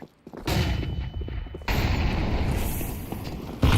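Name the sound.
flashbang grenade thrown in video game Counter-Strike 2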